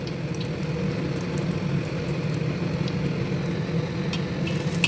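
Pumpkin flower fritters (kumro fuler bora) frying in hot oil on a gas stove, a steady soft sizzle and bubbling hiss throughout at close range, with a few faint clinks.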